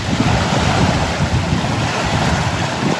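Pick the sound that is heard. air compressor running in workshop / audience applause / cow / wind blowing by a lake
wind blowing by a lake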